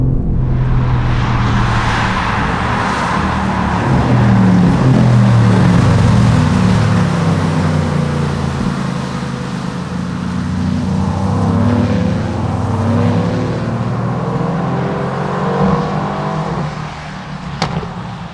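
A Mercedes-AMG GT R with a large central exhaust runs at full throttle on a wet race track, producing a loud, continuous engine roar that rises and falls with gear changes and tyre hiss.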